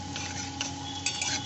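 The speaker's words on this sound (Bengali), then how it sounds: "আমি সাদা তেল দিয়ে একটু পেঁয়াজ কুচোনো দিয়েছি" A utensil scrapes and clinks in a pan while chopped onion cooks in white oil, a soft, steady stirring with a faint sizzle underneath over a short stretch, with no talking.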